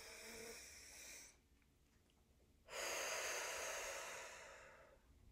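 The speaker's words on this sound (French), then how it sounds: "On va prendre une grande respiration." A slow, deep breath during a calm relaxation exercise: a soft, airy inhale, a short pause, then a fuller, louder exhale, close and alone with no talking.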